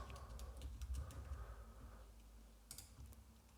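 Quiet keystrokes tapping on a computer keyboard while a search term goes into a search box, a quick soft run of clicks in the first half then a brief cluster later, faint and close with no talking.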